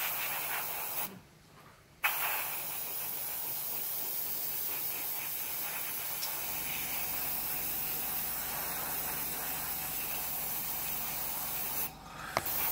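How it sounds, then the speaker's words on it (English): Spray painting with SMS olive and duck egg green paint, thinned down: a steady, close hiss of spray runs through most of the clip, with a couple of short pauses between passes. "Bit of overspray is not going to hurt it."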